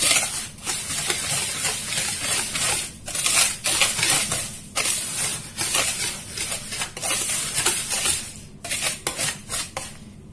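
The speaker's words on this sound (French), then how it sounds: "Maintenant, je vais mélanger tout ça." A spoon scrapes and clatters steadily against a bowl while semolina cake batter, made without eggs, is stirred, with rhythmic, close, fairly loud strokes and brief pauses, and no talking.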